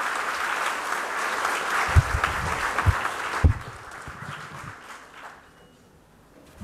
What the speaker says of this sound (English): a big round of applause for all the participants here